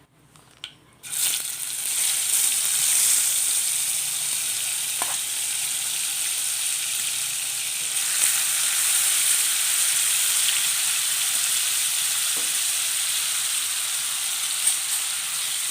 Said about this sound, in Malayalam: ബാക്കിയും കൂടി ഈ എണ്ണയിലോട്ടിട്ട് വറുത്ത് കോരാം